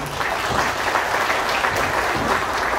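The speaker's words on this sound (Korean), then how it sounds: "한번 박수 쳐주시면 좋겠습니다." Ceremony guests applaud in a brief, even burst at an Automobile Day commemoration held in a hotel hall in Gangnam, Seoul, the clapping close and continuous with no talk.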